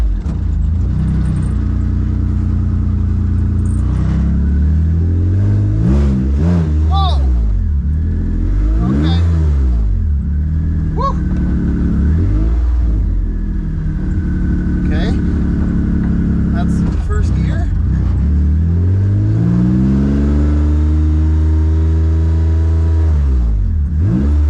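A Toyota MR2 with a 2GR V6 engine swap and no working brakes revs hard and drives, with repeated rising and falling engine sweeps heard loud and close from inside the car while people talk over it.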